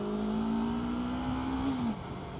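A Yamaha R3 motorcycle under way, engine holding a steady droning tone that climbs slightly before cutting off near the end, close and fairly loud with no talk.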